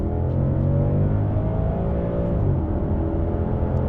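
An Audi saloon with a Lamborghini V10 engine pulls hard in second gear on a road toward 4,000 revs, its strong, close engine drone rising in pitch and holding steady.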